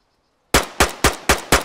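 Five sharp, loud gunshots in quick, even succession ring out close in DayZ after a brief near-silence, each crack decaying fast.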